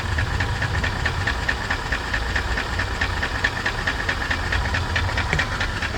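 A Mercedes-Benz W220 engine idles steadily, heard from underneath the car, with a loud constant rumble and a fast, even ticking knock running through it from start to finish.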